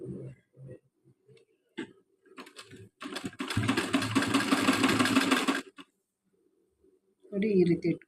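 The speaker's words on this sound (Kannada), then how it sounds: "ನಾನು ಇದನ್ನು ಹೊಲಿಯೋದನ್ನು ತೋರಿಸ್ತೀನಿ." A sewing machine stitching slippery chiffon fabric for a flared layered coat runs in a steady buzzing burst for a few seconds, close and loud, with someone talking before and after it.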